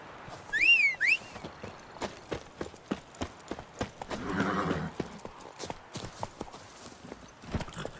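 Horse hooves clip-clop at a steady trot in The Witcher 3: Wild Hunt, a regular train of sharp hoofbeats with a brief whistle early on and a snort or whinny midway.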